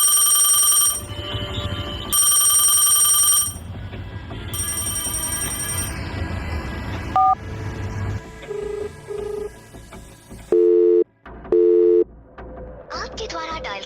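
A telephone call rings in repeated loud bursts, then gives way to a string of shorter electronic tones and beeps before the line reports busy.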